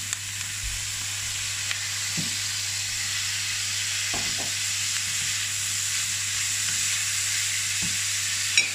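Beef and vegetables, peppers and broccoli, sauté in a wok with a steady, close sizzle and hiss, broken by a few brief clinks as the food is stirred.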